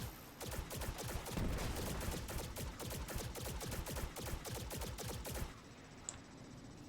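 Rapid automatic gunfire in Destiny 2 rattles out as a dense, evenly spaced stream of shots for about five seconds, fairly close, then cuts off, leaving a quieter moment with a couple of faint clicks.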